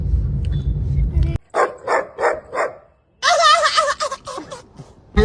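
A pet dog barks in a run of several sharp, close barks, then gives higher yelps, heard between short stretches of Hindi speech from people nearby.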